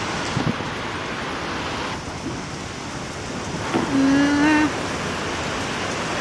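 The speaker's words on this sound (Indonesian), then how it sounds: "Hujan lagi. Deras lagi." Heavy rain pours steadily over rice fields in the rainy season, a dense constant hiss with a brief tonal sound rising near the end.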